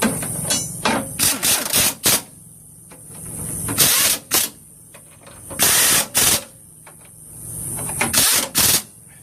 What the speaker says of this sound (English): I'm going to spot weld it in place.